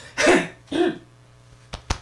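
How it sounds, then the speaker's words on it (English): Two short, gruff throat clearings close by, followed by a couple of faint clicks. "I had to clear my throat."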